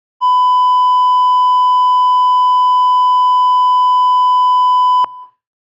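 A single loud, steady censor beep runs for about five seconds to bleep out spoken words, then cuts off sharply with a brief click and no talk.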